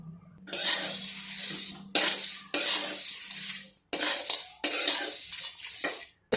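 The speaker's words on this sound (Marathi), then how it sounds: "याच्यामध्ये सर्व खडे मसाले मी मिक्स केलेले आहेत आणि ते आता आपण परतून घेऊयात" Whole spices dry-roasting in a pan on low heat for Maharashtrian black masala rattle and scrape under a spatula in several bursts of stirring, separated by short pauses.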